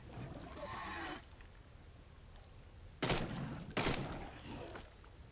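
A big gun fires in The Sinking City, with two sharp, loud shots about a second apart after a stretch of quieter rumbling ambience.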